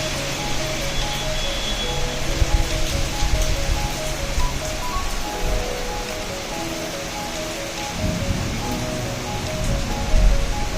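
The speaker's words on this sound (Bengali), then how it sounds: "তো বলতে বলতেই বৃষ্টি শুরু হয়ে গেছে।" Rain falls outside in a steady, moderate hiss that continues unbroken, with faint tonal hums in the background and no talking.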